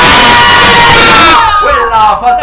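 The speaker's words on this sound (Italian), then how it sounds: "Vai ragazzi con urlo." A group of young women in an indoor room at a convent shout a loud cheer together, the burst of voices ending after about a second and a half into scattered quieter calls and murmurs.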